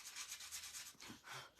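Quiet, steady rubbing of sandpaper over painted lines on a DIY water-themed project, a soft close-up scratching in short back-and-forth strokes with no talking.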